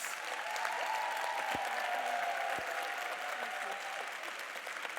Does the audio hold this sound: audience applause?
yes